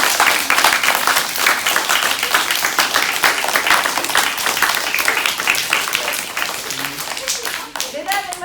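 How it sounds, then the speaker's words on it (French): Audience applause at a French show, dense continuous clapping from a crowd that thins out toward the end, with voices rising under it. "Mesdames, Mesdemoiselles, Messieurs, je vous demande d'applaudir très très fort"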